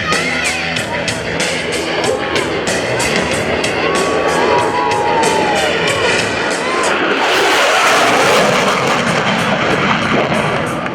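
An F-16CJ Fighting Falcon streaks past show center at high speed during an air national guard open house airshow, a loud sustained jet roar swelling over a cheering crowd and brightening sharply near the end.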